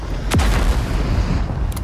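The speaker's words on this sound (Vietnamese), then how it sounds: "Chuyển về súng máy, xả." A tank's machine gun firing in the armored combat game Project CW, with one sharp boom up front and then a loud, dense clatter of rapid shots over rumbling battle noise.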